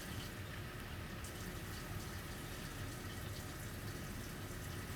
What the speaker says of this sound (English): You said add more water.